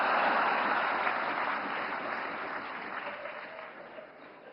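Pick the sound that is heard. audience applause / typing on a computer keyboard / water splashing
audience applause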